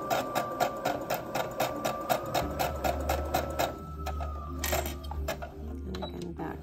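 A sewing machine stitching a 5/8 inch seam, with a fast regular run of needle clicks for a few seconds, then slowing and stopping, followed by a softer low motor hum and a few light clacks, close up.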